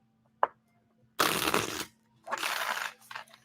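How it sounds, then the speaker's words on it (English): Tarot cards shuffled by hand: a short tap, then two long riffling bursts and a brief final flutter, close and crisp against a quiet background with a faint steady hum. "If it's an honest shuffle and a card flies out, I tend to honor that card."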